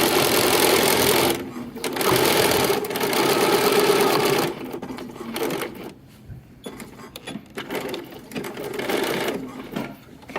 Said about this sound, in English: we're going to sew right up to that spot